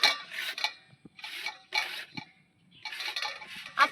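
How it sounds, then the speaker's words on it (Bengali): Papaya tree stem being grated by hand on a metal grater: rhythmic bursts of rasping strokes, close and fairly loud, separated by short pauses and light taps. "গ্রেটার দিয়ে আমি ভালো করে টেনে টেনে লম্বা লম্বা করে এই পেঁপে গাছটাকে ভালো করে গ্রেট করে নিচ্ছি"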